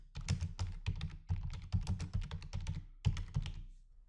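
Rapid bursts of typing on a computer keyboard as a chart title is entered, close crisp key clicks in quick runs with a brief pause near the end, no talk.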